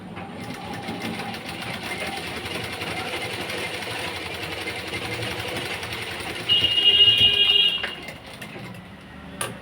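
A sewing machine stitches a padded blouse, a steady close mechanical whirr and rapid needle rattle running several seconds, briefly louder and higher near the end before stopping.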